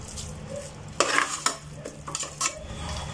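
Chicken pieces frying in a thick biryani masala for Ambur-style chicken biryani, stirred with a utensil: a steady close sizzle broken by several sharp scraping and clattering strokes against the pot, with no talk.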